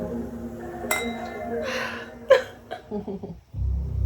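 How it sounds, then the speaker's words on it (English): Drinking glasses clink together in a toast among friends, a few bright chinks amid breathy sounds and a faint voice in a quiet room, then a burst of low rumble at the end. "Cheers, Crystal."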